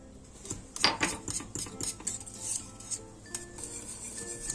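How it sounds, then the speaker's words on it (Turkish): A spoon stirs milk pudding in a pot on the stove, with repeated close metallic scrapes and clinks against the pot, irregular and moderately loud, no talking. "Karıştırıyorum iyice."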